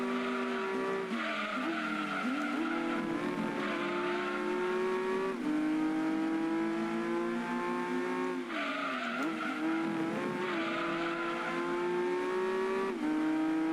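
A Skyline GTS25 race car in Gran Turismo 2 roars with a loud, continuous engine note that rises and falls through gear changes, joined by tire squeal through the corners.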